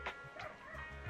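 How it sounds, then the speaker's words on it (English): Dogs bark and yip in the background, a few short sharp calls spread across a brief moment, faint and distant under a quiet indoor setting. "Sorry about the dogs in the background."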